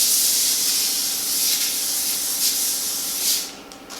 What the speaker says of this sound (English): I'm going to spray it completely, coat it with a non-stick spray.